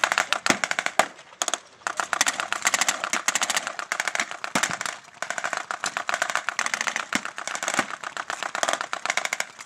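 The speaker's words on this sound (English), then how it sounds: "A lot of suppressive fire going down." Rapid suppressive gunfire at German positions crackles nonstop in sharp, dense bursts, like a string of firecrackers, loud and close with brief pauses between volleys.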